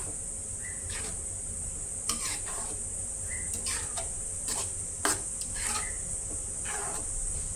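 Peas being stirred into paneer gravy in a pan, with intermittent scraping and clinking strokes of a spoon against the pan over a steady high background hiss, close and moderately quiet.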